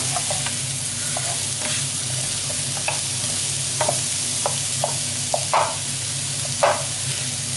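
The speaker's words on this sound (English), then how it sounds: "So I'm going to stir fry the mushrooms." Mushrooms stir-fry in butter in a hot pan, with a steady loud sizzle throughout and occasional sharp clicks of the spatula, close and without speech.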